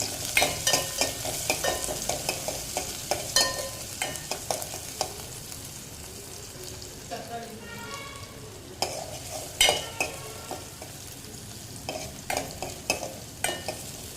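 Curry leaves, coriander leaves and shallots stirred in frying oil for a country chicken rasam, a quiet continuous sizzle with repeated clinks and scrapes of a spoon against the pan, close up and without talk.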